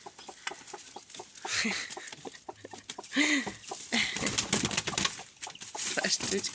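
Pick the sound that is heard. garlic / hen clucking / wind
hen clucking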